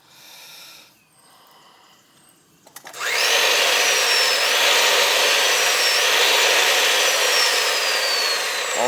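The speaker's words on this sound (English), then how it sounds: "While it's in the pipe machine, I'll put a 90 on it." A pipe threading machine spins up and runs steadily, a loud continuous mechanical whir with a rising whine, cutting threads on pipe for a 90-degree fitting during a residential oil tank replacement, preceded by quieter handling noises.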